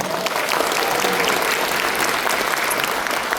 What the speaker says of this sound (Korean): 다시 한번 큰 박수 주시죠.